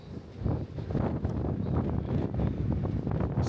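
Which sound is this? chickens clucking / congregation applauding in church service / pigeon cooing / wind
wind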